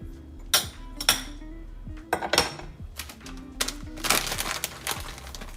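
Knives and dishes are set out on a table, giving sharp metallic clinks and clatters at uneven intervals. The bursts are close and fairly loud, with short quiet gaps between the placements.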